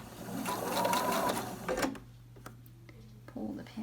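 A sewing machine stitches pinned quilt triangles for a farmhouse floral quilt, running in a steady close whir for nearly two seconds before stopping, followed by quieter handling clicks and taps.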